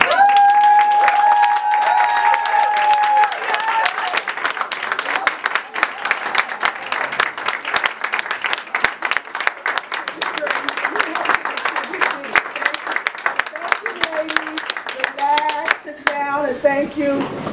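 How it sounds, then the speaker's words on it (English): An audience in a hall gives a standing round of applause for a speaker, dense sustained clapping throughout with a few voices and whoops mixed in, tapering off at the end. "let's give her a wonderful round of applause"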